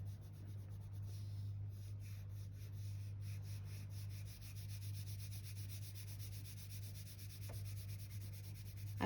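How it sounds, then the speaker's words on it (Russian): A pencil rubs steadily across paper while coloring, a soft continuous scratchy sound, faint and close, over a low steady hum. "Где-то поярче нажали на карандашик, где-то послабее."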